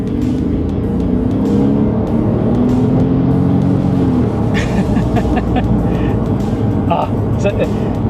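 A Porsche 911 of the 997 generation drives along, its rear-mounted engine and exhaust giving a steady, rumbling drone from behind the cabin beneath someone talking throughout.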